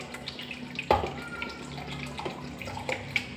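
Water poured into a mixer grinder jar in a home kitchen, a faint trickling splash with a few small clinks against a quiet background hum.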